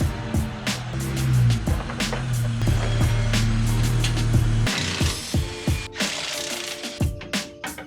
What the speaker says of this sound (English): So the next step is to unbolt our old shocks.